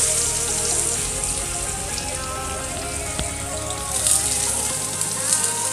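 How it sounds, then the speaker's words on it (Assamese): Onions dropped into hot oil in a wok give off a steady, crackling sizzle, close and fairly loud, continuing throughout with no talking. "এয়া মোৰ তেল গৰম হৈ গৈছে দি দিছোঁ পিঁয়াজ"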